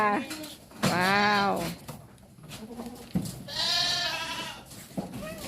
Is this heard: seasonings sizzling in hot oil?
no